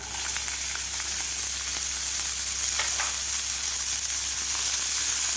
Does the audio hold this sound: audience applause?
no